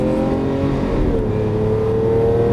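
A Lamborghini Aventador LP700-4 engine revs hard under acceleration, holding a loud, steady, rising tone with layered harmonics, then a brief dip as it upshifts and climbs again, close and continuous.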